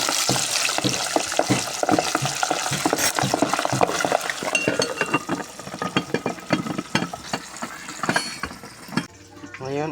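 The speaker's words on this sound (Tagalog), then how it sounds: "Pritusin muna natin ang pork para maging crispy siya." Pork pieces frying until crispy for sisig, a dense, continuous loud sizzle with frequent utensil scrapes and clinks of stirring against the pan, and brief spells of water or tap noise.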